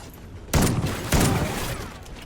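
Two loud booming shotgun blasts in the video game Call of Duty: Ghosts Extinction, about half a second apart, each with a short decaying tail over low background noise.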